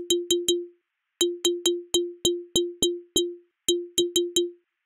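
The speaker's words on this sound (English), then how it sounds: "FM synthesis can make very icy sounds." Bright, glassy FM synthesizer tones play short plucked notes in quick groups of three and four, each with a crisp metallic attack and fast decay.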